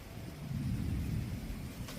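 Low, rolling thunder rumbles steadily as rain begins, a deep continuous growl with a soft hiss of rainfall over it.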